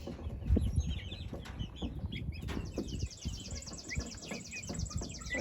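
Wyandotte chickens and roosters in a farmyard, with wings flapping nearby and clucking and chirpy calls scattered over a busy, rustling background.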